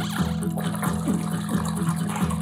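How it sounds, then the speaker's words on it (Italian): In the puzzle video game Chuchel, water pours down from above with a loud, rhythmic gushing splash that repeats about every two-thirds of a second over a steady tonal hum. "l'acqua cade da qua sopra"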